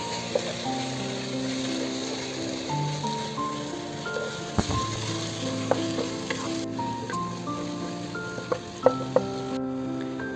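Kashmiri chili powder is stirred into masala frying in a pan for Malabar fish biryani: a steady sizzle runs throughout, with scraping stirs and a few sharp clinks of the spoon against the pan.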